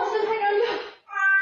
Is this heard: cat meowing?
yes